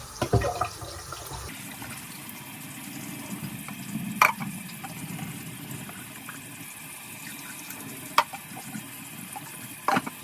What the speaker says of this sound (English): So now I'm going to pour the water out and turn the cooked water.